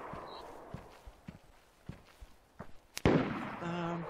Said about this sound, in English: they're shooting like they're just suppressing the tower